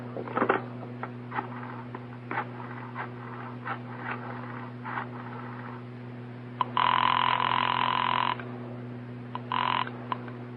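A telephone in an old radio detective drama: a few scattered clicks of the receiver and dialing, then a steady ringing tone from the line, heard alone over a constant low hum.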